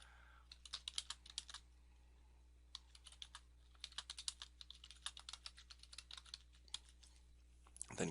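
Bursts of quick, light tapping on a computer keyboard, close and quiet, coming in rapid runs separated by short pauses.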